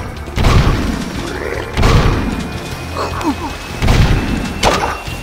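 Video game explosions in Jak 2 go off as a series of deep booms and heavy thuds, several bursts in a few seconds, loud and close.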